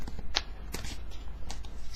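Tarot cards being shuffled by hand, a few quick riffling bursts of card noise close up over a steady low background hum, no talking.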